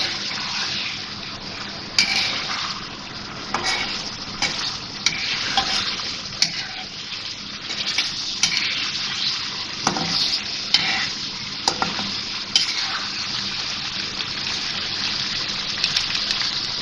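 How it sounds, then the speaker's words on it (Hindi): Chicken pieces frying in a pan for a restaurant-style chicken handi curry: loud, dense, continuous sizzling with frequent sharp scrapes and stirring clatter, close up and without speech. "चिकन को जब तक फ्राई करेंगे तब तक इसका कलर वाइट ना हो जाए।"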